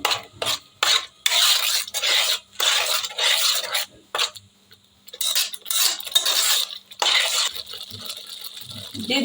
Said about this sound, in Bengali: এটা সুন্দর করে নাড়াচাড়া করতে থাকবো।